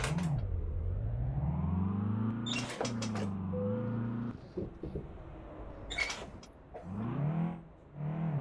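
A taxi's engine in a driving video game revs up and down repeatedly, its pitch climbing and falling in smooth waves, with a few sharp clicks between revs and no one talking.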